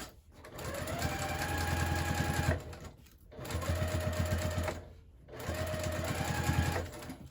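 Sewing machine basting a 1/8 inch seam on a handbag, three close bursts of rapid, even needle chatter separated by short pauses, with no voice over the stitching.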